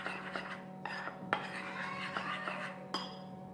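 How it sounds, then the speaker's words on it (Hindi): Coffee and cinnamon are stirred together in a bowl, a spoon scraping and clinking against the sides in irregular taps over a low steady hum, quiet and close. "साथ ही मैं इसमें सिनेमन भी डाल दूँगी और मैं इसे अच्छी तरह से मिक्स कर लूँगी"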